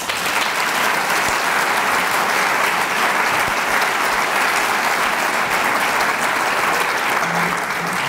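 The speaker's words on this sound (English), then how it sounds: "Let's give our students another round of applause." Sustained audience applause at a 2012 scholarship luncheon honoring students, a dense, steady wash of many hands clapping that holds evenly for the whole stretch with no voices standing out.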